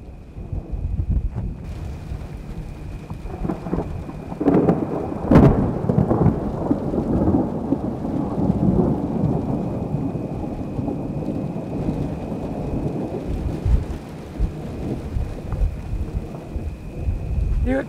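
A thunderstorm outdoors pours steady heavy rain while rolling thunder rumbles low and continuous, with a sharp crack near the middle; the noise fills the whole stretch with no voices.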